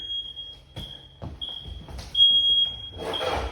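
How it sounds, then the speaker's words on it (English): A smoke alarm in a 2003 Southern Homes double-wide mobile home sounds a shrill, high steady tone, close and loud, broken into long beeps, with thumps and rustling between. "get the alarm to stop"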